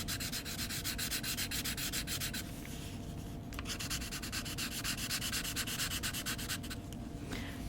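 Felt-tip markers swatched on textured paper make a steady, close scratchy rubbing in repeated back-and-forth strokes, with a brief pause in the middle before the strokes resume.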